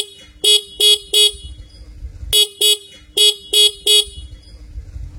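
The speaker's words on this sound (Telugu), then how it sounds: "హార్న్ కూడా లౌడ్ గానే ఉంది." Single front horn on a 2025 TVS Star City Plus OBD2B motorcycle honks loudly and close in two groups of short blasts, three then four evenly spaced toots, over a low idling rumble.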